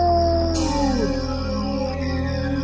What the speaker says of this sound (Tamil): கோமாயு தன் நிலையை மறந்து தானும் உரக்க ஊளையிட்டது.